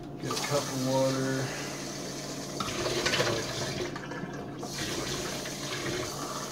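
Water runs steadily from a tap for several seconds, a continuous splashing hiss with a faint rising tone as a cup fills.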